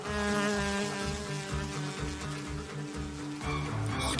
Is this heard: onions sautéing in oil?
no